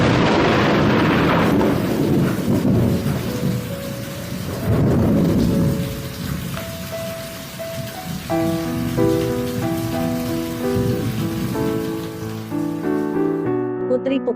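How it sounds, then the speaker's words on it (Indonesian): Heavy thunderstorm with booming thunder strikes over dense, pouring rain, loud and close, with a musical score of sustained tones rising underneath the storm in the later part. "Tiba-tiba, datanglah petir menyambar dan hujan yang sangat lebat."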